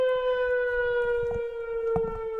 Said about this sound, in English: some kind of wild siren goes off here